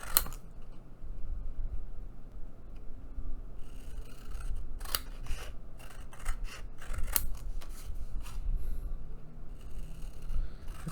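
Scissors snipping paper strips for a handmade devotional journal, a series of crisp close cuts in irregular bursts over a quiet room background.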